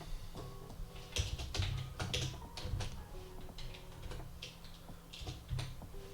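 Rapid, irregular clicks of computer keys being typed, close and fairly quiet over a low steady hum, with bursts of keystrokes spread across the whole stretch and no talking.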